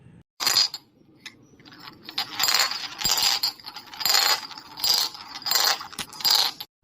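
Bright glassy clinks and rattles from an old glass object come in repeated bursts, several jangly rounds separated by short pauses, close and fairly loud with no talking.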